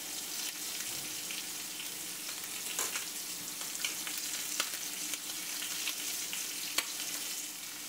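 Pork loin sears in a pan with a steady, close, crackling sizzle of hot fat and occasional sharper pops.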